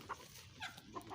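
Pet hens on a home poultry setup give a few short, soft clucks spaced across about a second, faint and a little distant, with a low background hiss.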